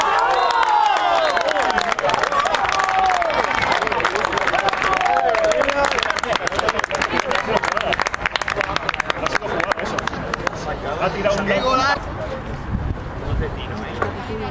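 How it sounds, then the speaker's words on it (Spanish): A crowd at a football match between Rayo Majadahonda A and Sanse A cheers and claps, a broad roar of noise under steady talk, easing near the end. "aplauso."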